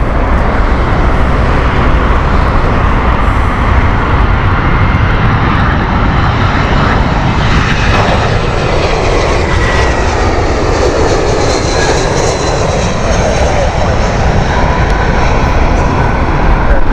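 A British Airways airliner on the Amsterdam flight roars at Heathrow Airport in heavy winds, its engine noise loud and sustained throughout, with broadband rumble and wind buffeting and no voices.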